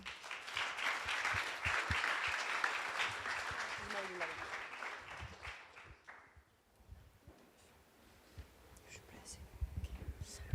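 Audience applause at a startup pitch event: dense, broadband clapping fills the room for about six seconds, then fades into quieter hall noise with scattered claps.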